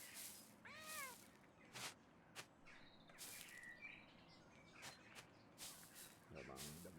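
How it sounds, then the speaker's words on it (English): A cat meows repeatedly in the video game Pentiment, several clear rising-and-falling calls amid quiet background ambience with occasional clicks and bird chirps. "You can pet the cat and the dog!"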